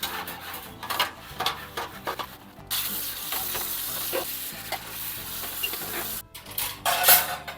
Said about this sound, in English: metal scourer on there